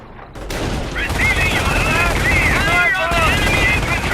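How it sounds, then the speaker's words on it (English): Battle gunfire from Company of Heroes 2 fills the scene with dense, continuous rattling shots under whistling, swooping effects, loud and close throughout with no spoken words. "Under fire! They're taking too much damage."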